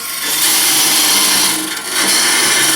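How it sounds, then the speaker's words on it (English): A woodturning lathe spinning a spalted wood lidded ring box while a tool cuts with the bevel rubbing, a loud continuous whirring scrape that dips briefly and resumes. "So now, bevel rubbing, now make the cut, widen the curve."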